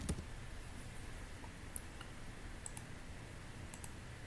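Computer mouse clicks come while working in Civil 3D software, a few sharp, faint ticks spaced irregularly over a steady hiss of background noise.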